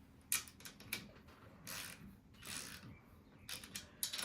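Bolts on the motorcycle fork triple clamps of a Kawasaki KE175 being tightened with a ratchet, giving close, quiet clicking bursts in several short spells with brief pauses between them.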